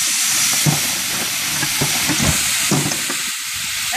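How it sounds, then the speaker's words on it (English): CO2 vents from the relief valve of a life raft canister in a loud, steady, broadband hiss that runs for the whole few seconds, with faint irregular pops underneath. "And it'll vent off extra CO2 from the canister."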